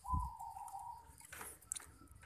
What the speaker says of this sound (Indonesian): ini burung perkutut yang baru saya dapat dari wikat